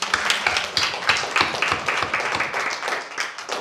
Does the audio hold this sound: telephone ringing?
no